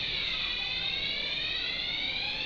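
An indoor fire alarm sounds continuously, a loud steady electronic tone with a buzzing edge that holds throughout with no pause, alone without voices.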